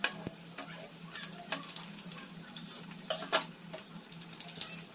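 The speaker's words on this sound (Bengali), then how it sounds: "এইভাবে উল্টে পুল্টে ভেজে নেব" Mixed vegetable paratha frying in a pan gives a soft, steady sizzle with scattered clicks and scrapes as it is turned, at low volume with no voices.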